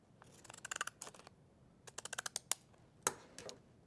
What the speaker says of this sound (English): you're going to trim around the top and then back down the other side